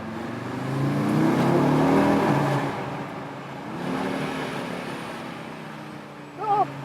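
Audi RS Q3 Sportback 2021 with a 400 hp engine accelerating inside a tunnel, a rising engine roar that swells, eases off and builds again with reverberant echo, followed by a short voice at the end.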